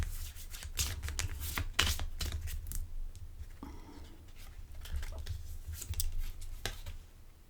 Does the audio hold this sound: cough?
no